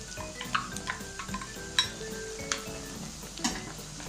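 Chopped medium tomato stirred into fried onions in a clay pot, with soft scraping and clinking of a spoon against the pot under a faint sizzle, no talking.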